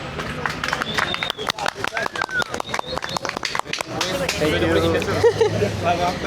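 A street crowd in Kadıköy claps for a dancer in a Roman dance contest, rapid uneven clapping up close mixed with chatter and shouts, fading into a babble of voices.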